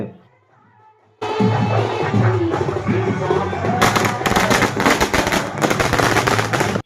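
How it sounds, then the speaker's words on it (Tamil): Firecrackers explode at a celebration near a quarry, a quiet start giving way to a loud, continuous barrage of rapid crackling bursts that grows denser and sharper partway through, then stops abruptly. "இன்னும் நிறைய வெடி வெடிக்காமல் இருந்துச்சு. அதெல்லாம் வெடித்து முடிச்சுட்டு"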